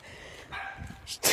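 Dogs attack in a video game, with growling and snarling building over a low game soundscape, ending in a loud burst of barking and mauling.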